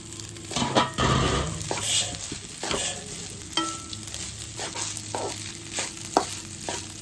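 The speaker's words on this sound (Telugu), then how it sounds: "ఈ ఆయిల్లో ఇప్పుడు మనం రైస్ కలుపుకుందాము" Cooked rice being stirred into hot garlic oil in a pan, with repeated scraping spoon strokes over a continuous sizzle and occasional clinks against the pan, and no talking.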